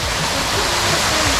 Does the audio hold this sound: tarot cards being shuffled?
no